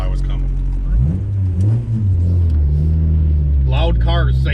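A Honda Civic EK Type R hatchback revs hard at a stoplight, its loud engine climbing and surging with a deep rumble, while someone talks over it.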